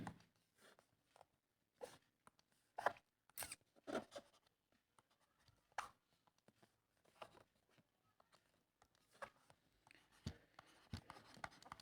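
Marker or chalk strokes writing the word variation on a classroom board, a series of quiet, separate scratching and tapping bursts with short pauses between them, heard close and alone.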